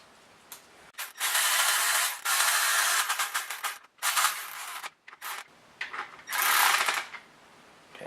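Bolts being threaded in and tightened down on a Hemi engine during a rebuild, heard as close, quick bursts of ratcheting clicks with short pauses between them.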